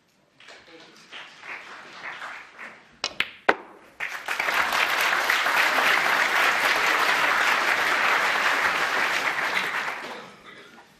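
Snooker crowd at the World Championship, Higgins versus Allen, breaks into loud sustained applause after a few sharp opening claps, filling the hall for about seven seconds before fading out.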